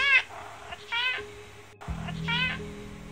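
A domestic cat meows twice with pitched, harmonic calls, close and clear, the second meow sitting over a low steady hum that starts partway through.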